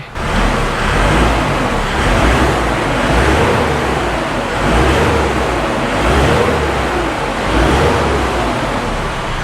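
A turbocharged motorcycle engine, blowing white smoke, runs with a loud, steady drone and slow swells in intensity, with no voices over it.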